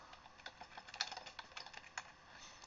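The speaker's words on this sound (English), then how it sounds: "we're going to go ahead and type in Premier Soccer Club" Typing on a computer keyboard, a quick uneven patter of light key clicks close to the mic, soft and alone with no speech.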